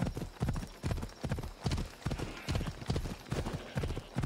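Horse hooves gallop across ground in Assassin's Creed Odyssey, a steady rapid clip-clop rhythm of loud, close thuds repeating throughout, with faint game ambience beneath.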